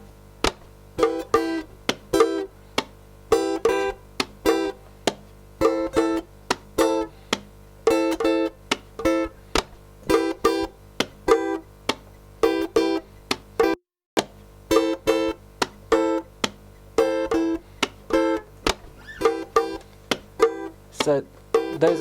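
Guitar chords strummed on the high beats in a repeating, rhythmic pattern, close and fairly loud, with short bright chord hits recurring steadily and a brief gap midway.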